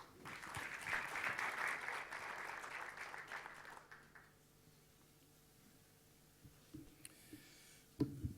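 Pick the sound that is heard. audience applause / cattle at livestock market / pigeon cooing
audience applause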